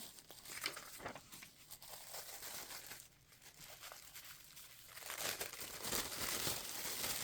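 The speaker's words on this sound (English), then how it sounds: "This is just little scraps of tissue paper." Scraps of tissue paper crinkle and rustle continuously while being handled for a glue book craft, a soft, close crackling that dips briefly in the middle and then grows louder and denser.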